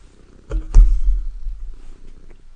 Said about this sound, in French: Je ne sais pas si vous l'entendez ronronner.